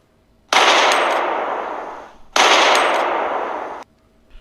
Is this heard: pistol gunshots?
yes